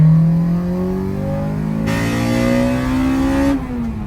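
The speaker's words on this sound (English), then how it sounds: "having that VTEC just engage and it rips" A Honda engine revs hard and climbs in pitch as VTEC engages, turning harsher and louder partway through before the revs ease off; the sound is close and steady with no talking.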